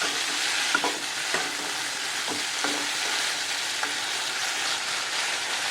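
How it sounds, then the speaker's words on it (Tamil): Pirandai (adamant creeper) sautéing in a pan with chillies and garlic gives a steady, close sizzle, with a few soft stirring knocks and scrapes breaking through it. "மிளகாய், நமக்கு தேவையான அளவு மிளகாய், பூண்டு, இது மூணு போட்டு தான் வதக்கிறது"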